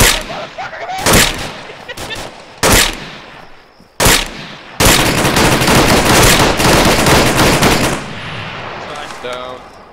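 Heavy automatic gunfire with tracer rounds in the military video game Arma III, loud sustained machine-gun bursts separated by short pauses, then a long continuous volley that fades into quieter distant shots.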